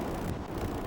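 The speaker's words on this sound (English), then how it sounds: "Wind's blowing though." Wind blowing at a beach on a sunny day, a steady broad rumble buffeting close to the microphone for the whole moment, with no voices over it.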